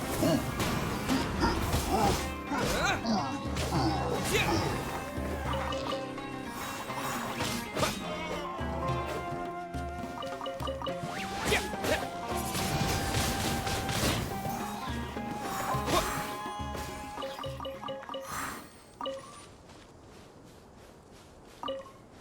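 Wind Blade attack in Genshin Impact: a dense run of crashing, whooshing impacts layered over busy game music, thinning to a few scattered hits near the end.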